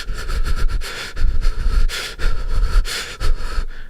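A man imitates heavy breathing with loud, rhythmic huffing breaths and sniffs, close up, in several bursts with short gaps.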